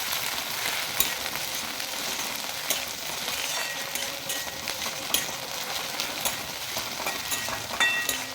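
A paste of crushed ginger, garlic and chili sizzles loudly in a hot pan, a dense, continuous frying hiss broken by small scraping clicks as it is stirred, close by and free of voices.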